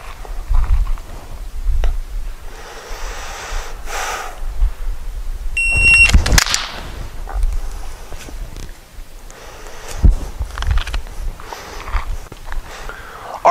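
Just before a pistol is drawn from a holster, a shot timer gives one brief high beep, followed by a sharp crack and scattered handling noises.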